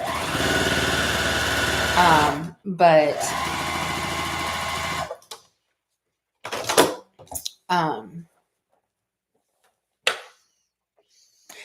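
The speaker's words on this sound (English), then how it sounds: "I'm sitting here on my butt sewing" A sewing machine stitches a fence rail quilt, running loud and close in two steady bursts of a few seconds each, followed by scattered short sounds and quiet.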